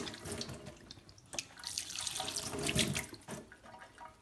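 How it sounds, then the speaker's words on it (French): Water runs steadily from an automatic liquid dispenser activated by a hand, a continuous splashing flow like a tap into a sink, with a few droplet spikes, close and moderately loud. "dès que j'approche la main, il y a l'eau qui sort."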